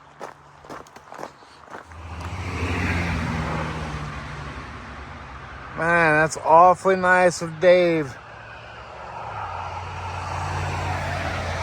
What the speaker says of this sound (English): Got some road noise.